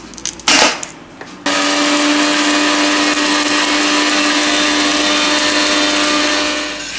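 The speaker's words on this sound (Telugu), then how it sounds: "దీన్ని ఫస్ట్ గ్రైండ్ చేసుకుందాం." A mixer grinder runs loud and steady, grinding lentils, cumin and salt for chutney. It starts after a brief clatter and holds a constant whirring roar for several seconds before easing slightly at the end. No one talks.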